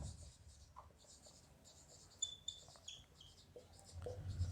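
Chalk writing on a blackboard during a math lecture on limits, faint scratchy strokes and squeaks coming in short, irregular bursts against a quiet room.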